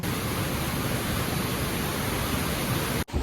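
Water pours steadily below a small dam near Amate waterfalls in Belagavi, a dense, continuous rushing roar that stays loud and even before cutting off abruptly near the end.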